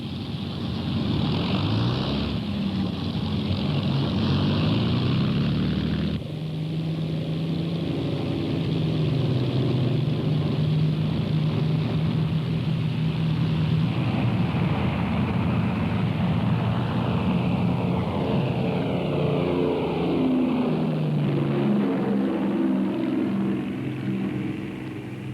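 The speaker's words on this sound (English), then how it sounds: "The attack is soon underway as Halifaxes, Stirlings and Lancasters fly over the target, each aircraft at its planned time and altitude for maximum effect." Several WWII Avro Lancaster, Handley Page Halifax and Short Stirling heavy bombers drone overhead, a loud, steady, layered roar of piston propeller engines that swells and shifts in pitch as the aircraft pass.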